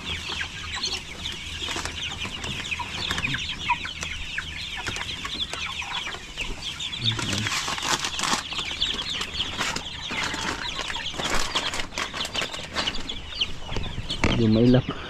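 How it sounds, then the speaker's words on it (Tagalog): Young chicks cluck and chirp continuously in a farm pen, with bursts of wing flapping near the end and a person speaking briefly in the background. "Takot sa tao yung mga sisiw na to."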